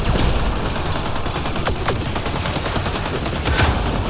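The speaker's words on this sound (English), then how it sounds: "Shooting the device." Gunfire in the sci-fi video game Mass Effect: Andromeda as a player shoots at a Kett device, a loud dense stream of rapid shots with sharp cracks standing out over continuous game noise and no talking.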